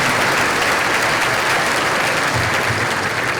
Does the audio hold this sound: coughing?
no